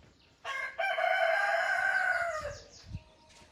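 A rooster crows once, a long loud cock-a-doodle-doo fairly close by in the early morning in the town of Keta, Ghana, followed by a brief faint cluck.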